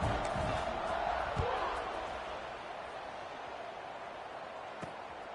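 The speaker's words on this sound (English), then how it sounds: "this crowd is buzzing after that last score" A football stadium crowd after a score, a broad steady roar of many voices that slowly eases, with a couple of sharp thumps rising over the buzz.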